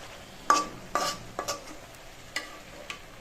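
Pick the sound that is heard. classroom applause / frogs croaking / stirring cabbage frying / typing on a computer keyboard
stirring cabbage frying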